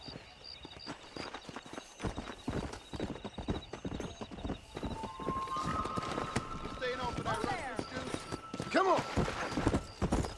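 A horse galloping in the Red Dead Redemption video game on PS5, with rapid, steady hoofbeats running throughout and a whinny near the end; someone shouts briefly over the hooves.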